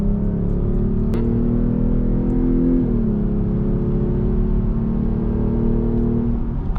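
A lowered Jeep on 22-inch wheels with a K&N cold air intake accelerates at full throttle, its engine note climbing steadily with a gear shift midway, then holding a loud, close, continuous drone with road and wind roar underneath.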